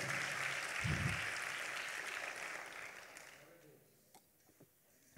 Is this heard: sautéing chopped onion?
no